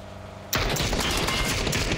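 PUBG gunfire: after a brief lull, a sudden burst of rapid automatic shots breaks in and keeps crackling as a loud, dense volley through the rest of the stretch.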